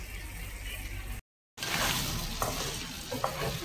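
Dried fish (tuyo) and tomatoes frying in a pan, with a steady close sizzle and stirring scrapes, cut by a brief silent gap, then louder spattering and clinks of the utensil.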